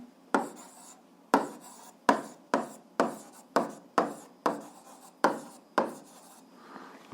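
A pen writing on paper, a row of about a dozen close, brisk scratchy strokes in a fairly even rhythm, with no talking.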